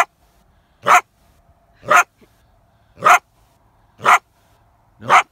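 A wild coyote caught in a trap by both front feet gives five sharp, loud barks at a steady pace about a second apart, each standing out against near silence.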